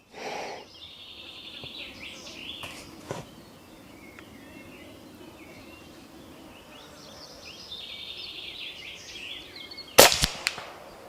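An Aselkon MX6 6.35 air rifle fitted with a 3D-printed moderator fires outdoors toward a target at 60 metres, a few faint muffled shots and a sharper cluster near the end, with insects buzzing in the background.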